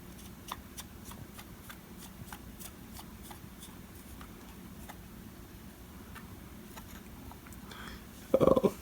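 Small screws being tightened into a gimbal adapter for a Smove Pro mobile gimbal, heard as a run of faint, evenly spaced ticks over a quiet room, ending in a brief louder handling clatter.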